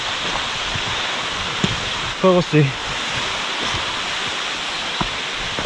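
A mountain stream with waterfalls, along a trail near The Brothers and Mount Coe in Baxter State Park, Maine, roars as a steady broadband rush throughout, while someone speaks briefly over it.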